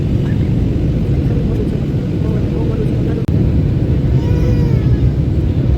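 Steady loud rumble of an airplane cabin during descent toward landing in Israel, a continuous engine drone throughout with a brief click midway.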